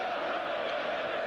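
A vociferous football stadium crowd of around 40,000 in Zagreb, at a Croatia versus Greece match, roars as a steady, dense wall of massed voices, loud and unbroken throughout the brief moment.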